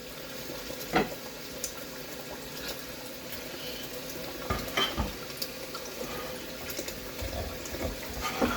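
Water is added to a pot while Haitian stew chicken cooks, giving a continuous watery rush and sizzle with scattered clinks and stirring knocks throughout.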